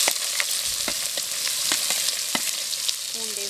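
Onions frying in a pan for a village-style snake gourd dish, giving a steady close sizzle with scattered crackles and spoon scrapes, alone without talk.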